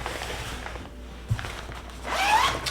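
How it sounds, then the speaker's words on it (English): A zipper is pulled open close by in a quiet room during film developing with a Paterson daylight tank, with a faint soft rasp followed by a brighter, quicker unzipping sweep near the end. "Unzip. Unzip."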